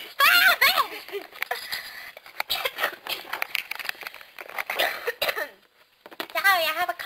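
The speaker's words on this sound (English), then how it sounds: "Sorry, I have a cough." Several sharp coughing bursts mixed with throat clearing and some giggly vocal sounds, close and fairly loud, with speech-like voice around them.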